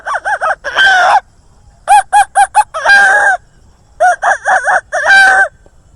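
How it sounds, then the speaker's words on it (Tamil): A hen cackles loudly after laying an egg, repeated bursts of harsh rising clucks and squawks in three clear bouts separated by short pauses, close to the microphone. "முட்டை இட்ட பிறகு அது எப்படி கத்தும்?"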